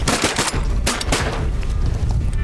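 Shotguns fire during a waterfowl hunt as several loud, close blasts in quick succession, their echoes rolling into a continuous roar of outdoor noise with no talking over them.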